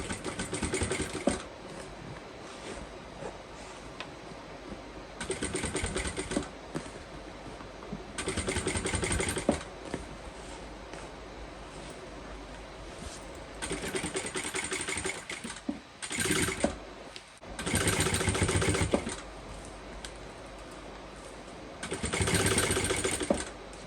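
A sewing machine stitches the seams of a bucket bag, running slowly in several bursts of a few seconds each with quiet pauses between them, close and with no talk.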